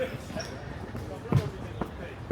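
A basketball bounces on an outdoor court in Kennedy Town, Hong Kong, a few separate thumps at uneven intervals amid background ambience and distant voices.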